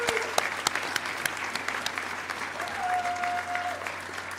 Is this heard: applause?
yes